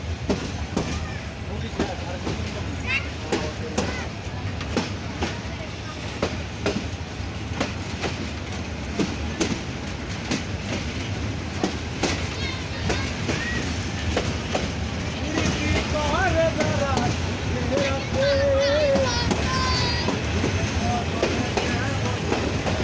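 The 768 Dolanchapa Express train at Sonatala railway station in Bogra district gives a steady rumble with clickety-clack wheel beats and a brief wheel squeal, while people talk in the background.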